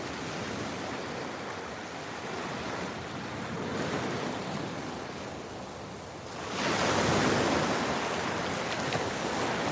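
Ocean surf washes steadily onto a beach at sunrise where a dog plays in the water, a continuous roar of breaking waves that swells louder near the end, with no talking.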